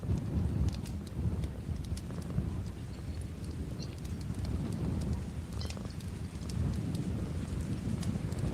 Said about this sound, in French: Faites attention maintenant à l'orage.